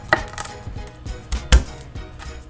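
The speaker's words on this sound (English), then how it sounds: "we're gonna chop the rough stems off of our asparagus" Rough stems of asparagus chopped off with a knife on a cutting board, a series of close, irregular knocks and thuds with one sharper chop near the middle.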